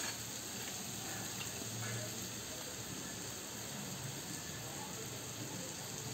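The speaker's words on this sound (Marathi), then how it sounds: "सांडगे छान या मसाल्यामध्ये परतून घेऊया।" Sandage, sun-dried lentil dumplings, sizzle steadily as they fry in an onion-tomato masala in a pan, a soft, continuous crackle and hiss at moderate distance with occasional faint stirring.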